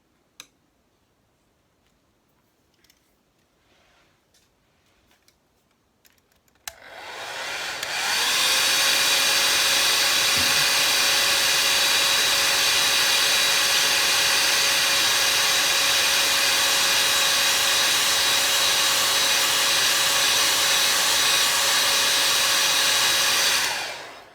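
A hair dryer blows steadily on watercolour paint, switching on after a few seconds of near silence and then running loud and close with a constant whooshing drone and a high motor whine for the rest of the clip.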